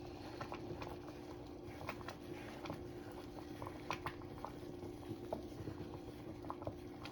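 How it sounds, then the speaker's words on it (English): Country white gravy simmers in a pan, bubbling thickly with scattered soft pops and plops in an irregular rhythm over a low steady hum, fairly quiet and close. "This also bubbles and pops, so you have to be very careful."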